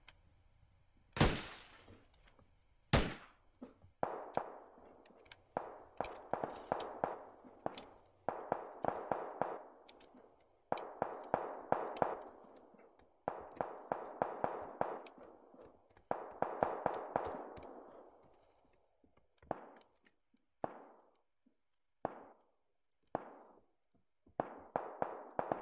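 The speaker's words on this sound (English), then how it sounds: "Who's shooting?" A long run of gunshots from the PUBG battle royale crackles in bursts: a few sharp single cracks, then repeated rapid clusters of automatic fire, ending in spaced single shots, fairly distant and with no talking over them.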